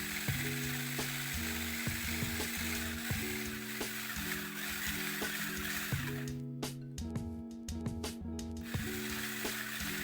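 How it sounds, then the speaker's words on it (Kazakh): An electric mixer whirs steadily as it beats an egg into cookie dough, its tone shifting in repeated steps as the beaters move through the bowl, with a few clattering ticks midway. "бір жұмыртқамызды қосып, тағы да миксермен біркелкі болғанша араластырамыз"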